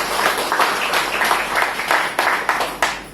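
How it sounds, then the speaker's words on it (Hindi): An audience of Anganwadi workers at a health awareness programme claps together in loud, uneven bursts, a close, rhythmic patter of hands that swells and fades over a few seconds. "तो जोरदार तालियां अभी महान आत्माओं के लिए"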